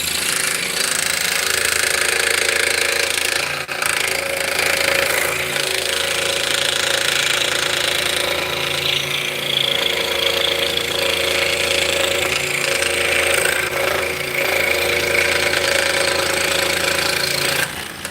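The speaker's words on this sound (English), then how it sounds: "we'll start cutting out the mortises" A power tool cuts mortises into wood for drop spindles, a loud, steady mechanical roar with a constant engine-like hum and rattling texture running continuously throughout, with brief dips but no pauses.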